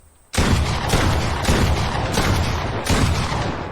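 Rapid gunfire in the Fortnite video game, shooting through a cone building edit, comes as a close, loud burst of repeated shots with short gaps after a brief quiet start.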